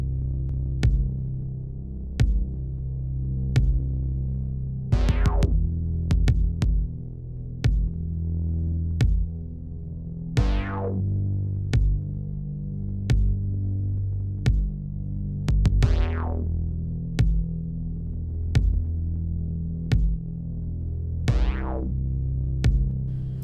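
An isolated bass stem from a voice-over mix, a low throbbing bass line with repeated notes, steady and fairly loud, with occasional brighter swooping accents above it and no talk.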